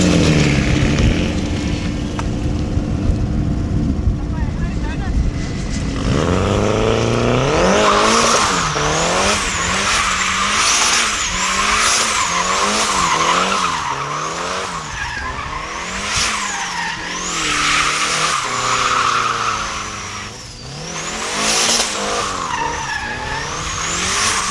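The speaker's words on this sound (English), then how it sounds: "So we have been doing some proper skids out here today." A stock car drifts with loud, sustained tire squeals and skidding, the engine revving up and down in repeated swells close by.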